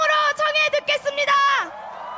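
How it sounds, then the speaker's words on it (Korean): Crowd at a political campaign rally in Sejong shouting and cheering in a loud, sustained burst of voices with rising whoops, close and filling the whole moment. "이재명 후보의 연설 여러분의 함성으로 청해 듣겠습니다"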